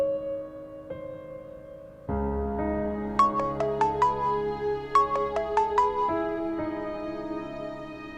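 A mobile phone rings unanswered in a drama scene, its melodic ringtone playing alone with sustained tones and a run of bright plucked notes, ringing on steadily and clearly close by.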